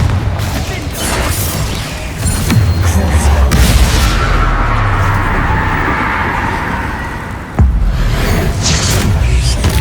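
Repeated blasting-curse explosions in a Hogwarts Legacy wizard battle, heavy low booms and crackling blasts layered over continuous combat noise, with a sharp fresh burst near the end.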